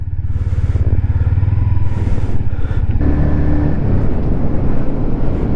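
A Yamaha XSR125 motorcycle ridden uphill on a mountain road, its engine loud and close, straining steadily with a pitch change partway through as it labours up the grade.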